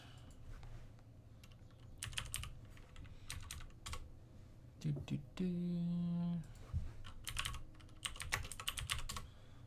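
Computer keyboard typing in bursts of rapid clicks, with a steady low hum underneath and a short tonal beep in the middle.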